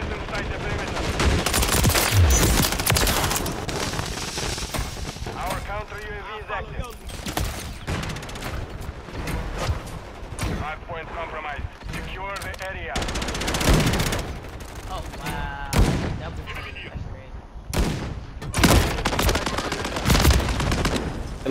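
Repeated pistol shots from dual-wielded handguns in a Call of Duty match, bursts of sharp close gunfire separated by quieter gaps, with a player's voice talking at times over the action.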